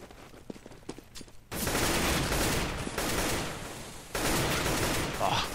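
Gunfire in Counter-Strike, a competitive match on the de_dust map: dense, sustained bursts of rifle fire fill most of the clip, loud and continuous, with a brief lull before a second volley.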